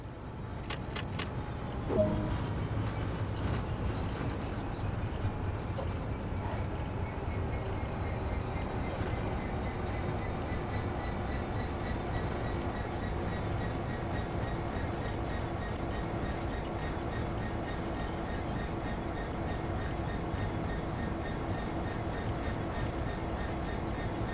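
A BR Class 166 diesel multiple unit in Train Sim World 2 runs along at speed with the throttle at idle, a steady, continuous rumble of wheels and engine with rail clatter, holding an even level from start to finish.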